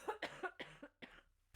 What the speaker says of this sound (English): my coughing is getting worse